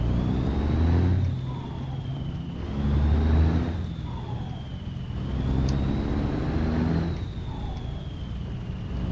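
A truck engine in the American Truck Simulator video game drones steadily with a faint high whine, swelling and easing in slow waves as it revs and shifts.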